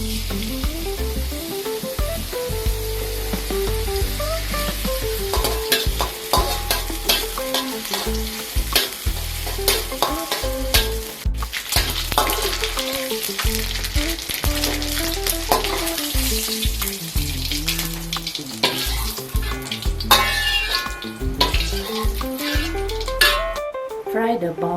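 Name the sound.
anchovies frying in a pan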